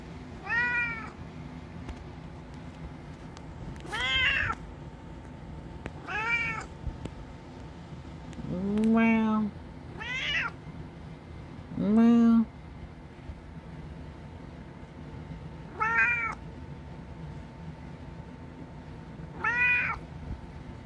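A cat meows repeatedly in a conversational back-and-forth, about eight clear, rising-and-falling calls spaced a few seconds apart over steady low background hum, some drawn out and louder than others.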